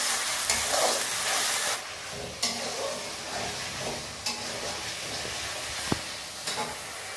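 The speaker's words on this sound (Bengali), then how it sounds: "হলুদ, মশলাটাকে আমরা ভালো করে কষিয়ে নেব।" Spice paste with salt and turmeric frying in a pan for a Bombay duck and eggplant dish, a continuous hissing sizzle broken by scraping stirs and a few sharp clinks of the spoon against the pan.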